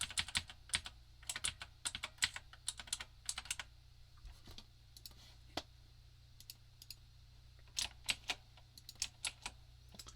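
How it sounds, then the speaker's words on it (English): Rapid bursts of computer keyboard typing for keyboard shortcuts while porting a board game in Tabletop Simulator, irregular clusters of sharp clicks at close range, with a low steady hum underneath and no talking. "See, you can use keyboard shortcuts if you want to."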